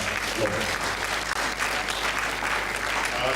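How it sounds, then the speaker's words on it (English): Audience applause during a university science conference opening ceremony, steady full-room clapping carrying through the whole span, loud and continuous, with faint voices underneath. "Shall we clap for that?"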